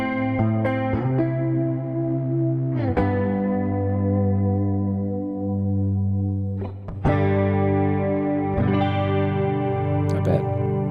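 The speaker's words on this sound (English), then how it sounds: "We've got a vintage chorus modulation effect happening," Electric guitar played through an amp preset with pitch shifter, vintage chorus modulation, delay and lots of reverb, sustained chords ringing out with a few fresh strums, loud and wide with swirling echoes and no talking.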